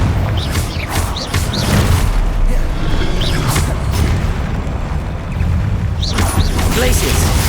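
Confringo fire spell cast in the Hogwarts Legacy video game, landing as booming blasts amid continuous loud combat noise with shouted incantations over it.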